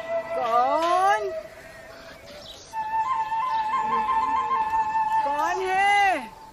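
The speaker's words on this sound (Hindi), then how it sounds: "बिल्ली।" A house cat meows several times indoors, with drawn-out rising and falling cries, one at the start, a longer wavering call in the middle and another at the end, close and fairly loud.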